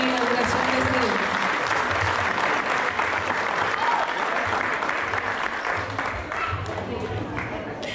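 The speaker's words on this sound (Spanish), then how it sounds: "Un aplauso nuevamente para seguir con la inauguración de este libro." Steady crowd applause fills the whole stretch at a book launch celebration, dense and sustained with a murmur of voices and music-like tones underneath, fading slightly toward the end.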